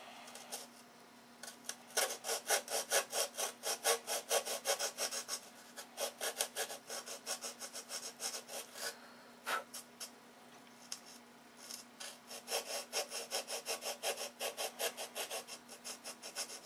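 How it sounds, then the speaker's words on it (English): Sandpaper rubs against a small brass piece in quick, rhythmic back-and-forth strokes, bursts of scratchy rasping separated by short pauses, quiet and close. "some real nice sanding."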